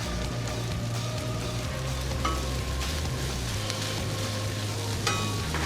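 Corned beef hash sizzles and fries on a Blackstone griddle in a steady, dense crackle that stays even throughout, with a low hum underneath and a couple of faint metallic taps. Nobody speaks.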